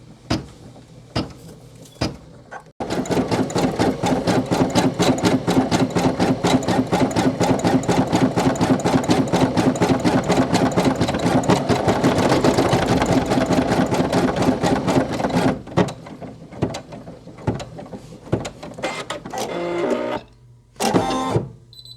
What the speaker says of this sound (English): So the design is finished embroidering